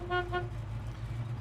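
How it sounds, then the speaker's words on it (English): Horn of a 1969 Chevrolet Camaro SS-style car sounding two short toots, fairly faint over a low background rumble. "inside our 69 Camaro, we have a horn."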